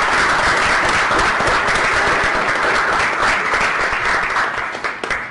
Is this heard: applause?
yes